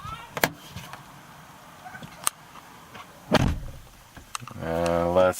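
A pickup truck door is opened with a few sharp clicks and a louder thump, then a steady, tonal door-open warning chime sounds close by.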